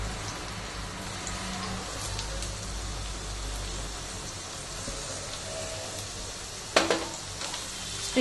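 Spring onions sautéing in a pan for Indian Chinese gobi manchurian, a steady soft sizzle with low background hum throughout, and a brief sharper clatter near the end.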